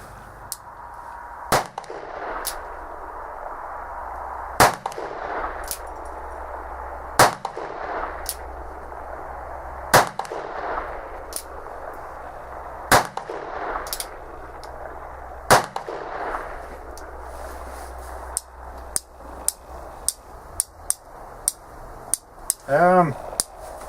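An Uberti 1860 Army percussion revolver fires shot after shot, sharp cracking reports spaced a few seconds apart, followed by a quicker patter of lighter metallic clicks and clanks.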